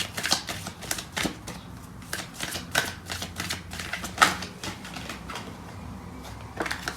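A deck of tarot cards being shuffled and riffled by hand, producing soft repeated flutters and light slaps in an irregular rhythm, close and fairly quiet, with no talking.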